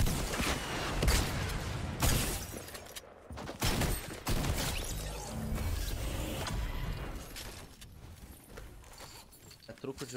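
Loud, close bursts of Fortnite gunfire and mechanical clatter come in quick volleys, with a voice talking over them.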